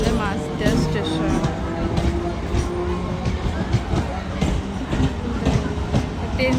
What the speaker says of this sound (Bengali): এই দেখো ট্রেনটা যাচ্ছে